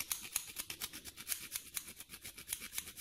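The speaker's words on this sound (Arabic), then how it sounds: "غادي نحك عليهم حكه ديال الكوزه" Nutmeg grated over kefta, a quiet, close, rhythmic scraping repeated steadily about every third of a second.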